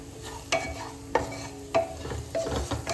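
Cashews and spices such as cumin masala and turmeric being stirred in a frying pan for paneer biryani, with a spoon scraping in four distinct strokes over a soft continuous sizzle, close up and without talk.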